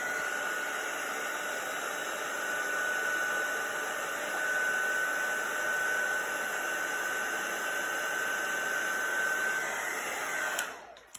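A heat tool blows steadily and loudly over silver embossing powder on a card sentiment, a continuous whirring rush that holds for about ten seconds and then cuts off abruptly.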